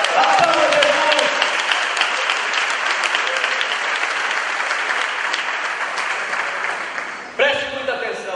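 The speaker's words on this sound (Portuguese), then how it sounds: "Aplauda Jesus." A church congregation applauds loudly and continuously for several seconds, a full room of clapping that fades slightly before a voice begins speaking over the tail end.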